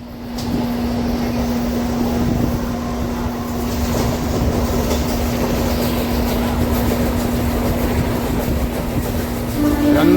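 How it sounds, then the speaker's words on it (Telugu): A MEMU passenger train running from Nellore toward Sullurpeta, heard from onboard as a loud, steady rumble with a constant electric hum and faint rail clatter throughout. "అది నెల్లూరు నుంచి సూళ్ళూరుపేట వెళ్ళే మెము ట్రైన్"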